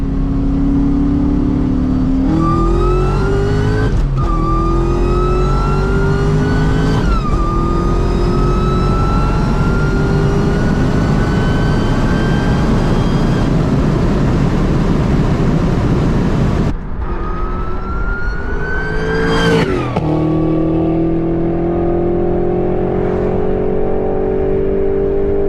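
An SVT Cobra Mustang accelerates hard through its gears in repeated pulls, the engine note climbing steeply, dropping at each shift and climbing again, loud and close inside the car, with no talking.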